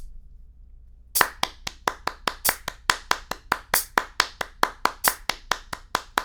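After a second of quiet, hands clap a fast, even run of six-note subdivisions, crisp and close, with no talking.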